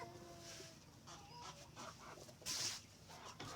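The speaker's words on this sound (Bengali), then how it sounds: "মুরগি থাকার কারণে মুরগির চিৎকার, বিভিন্ন নয়েজ" Chickens cluck softly nearby, with a few short squawks and one sharper, louder call partway through, over a quiet background.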